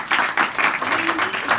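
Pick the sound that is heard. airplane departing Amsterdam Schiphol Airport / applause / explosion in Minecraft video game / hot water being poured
applause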